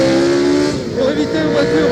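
1976 Formula 1 race cars at the Monaco Grand Prix, a loud sustained engine whine with shifting pitch as the cars run close by, with a commentator talking over it.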